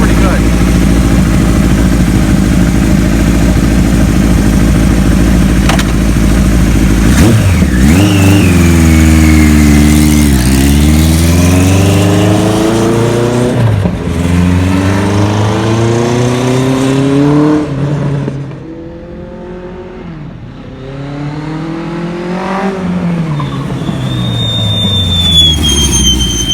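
A restored 1975 Kawasaki Z1 900 motorcycle engine revs close and loud, climbing and falling through repeated throttle blips before dropping back to a steady idle.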